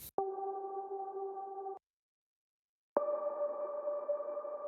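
Two sustained synth tonal hits in a dark alt-R&B production, each a clean held chord-like tone with a sharp attack, separated by a second of silence, played alone.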